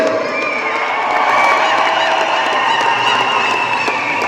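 Spectators at an indoor sports match in a mall in Ernakulam cheer and shout in a dense, steady roar with whoops and children's cries. Clapping is not clearly separable from the crowd noise.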